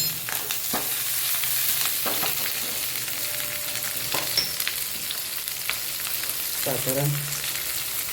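Eight to ten chopped green chillies frying in hot oil for a Gujarati dish, giving a continuous close hiss and sizzle with occasional stirring clatter, while a voice speaks briefly over it.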